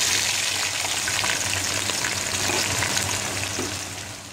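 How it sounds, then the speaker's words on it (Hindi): Six sliced medium onions drop into hot oil left from frying potatoes and sizzle steadily in a dense, loud hiss that slowly fades toward the end, with no talking. "इसमें मैं छः कटी हुई मीडियम साइज़ प्याज ऐड कर रही हूँ"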